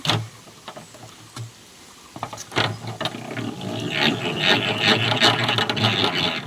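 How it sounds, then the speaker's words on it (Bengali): A honey extractor spins litchi-blossom honeycombs on a light rainy day, giving a rattling, ratcheting mechanical whir with scraping and clicks. It starts quietly, then grows fuller and busier over the last few seconds. "এরপরে মেশিনে চাকগুলো দেওয়ার পরে ঘুর দিচ্ছে"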